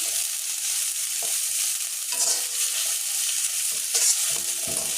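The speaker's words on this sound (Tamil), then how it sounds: "இப்போ இஞ்சி பூண்டு போட்டு வதக்கியாச்சு" Steady sizzling of ginger and garlic frying in a hot pan, with occasional scraping stirs from a spatula.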